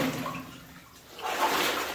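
Water sloshes and swirls around someone's legs as they wade slowly through a flooded abandoned copper mine from the 1900s in Pierce County. The sound is close and broadband, easing for a moment and then growing in a fuller splash.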